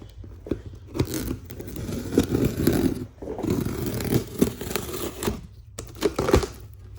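Cutting open the cardboard packaging of a NanRobot LS7 scooter, with close, irregular scraping and tearing bursts broken by brief pauses.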